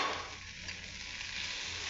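Vegetables and fried bitter gourd sautéed and stirred in an oiled pan for a bitter gourd dish, giving a steady, even sizzle close by with no voices.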